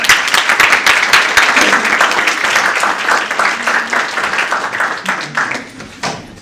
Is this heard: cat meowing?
no